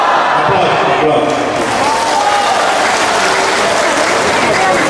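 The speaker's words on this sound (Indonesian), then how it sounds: "Aplaus." A crowd at a formal Indonesian ceremony gives loud, sustained applause. The dense, even clapping fills the whole stretch without a break.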